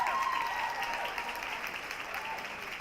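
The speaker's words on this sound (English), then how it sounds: "Give her a round of applause for me, guys." An award-ceremony audience applauds a winner, steady dense clapping from a crowd that gradually tapers, with faint voices underneath.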